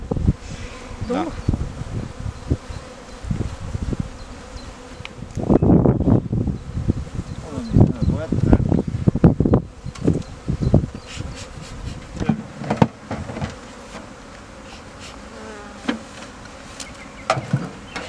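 Honeybees buzz around five beehives set up at an industrial packaging site, a dense continuous hum with individual bees zipping close to the microphone in brief louder passes.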